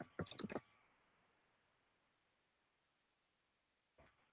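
A quick burst of keys being typed on a computer keyboard, crisp and close, then a long silence broken by one faint final tap.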